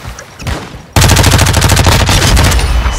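A sudden, loud burst of rapid automatic machine gun fire in Call of Duty: Warzone 2 cuts in after a quieter lead-in and keeps going as a dense, steady stream of close shots.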